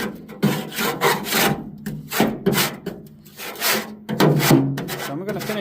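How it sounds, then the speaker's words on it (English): A scraper grinds against caked-on buildup inside a pellet grill in repeated rough, rasping strokes, close and fairly loud, with uneven pauses between passes. "I'm going to use that scraper part."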